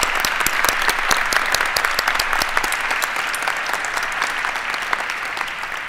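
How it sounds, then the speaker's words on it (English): Sustained applause from a large audience at a naturalization ceremony, dense clapping that continues steadily throughout without pause. "Dr. Loudon, please stand up and let us applaud you for this magnificent ceremony."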